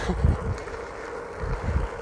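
Steady wind buffeting a lapel microphone while riding, a continuous low rumble with uneven gusty thumps, fairly close and loud, with no voices.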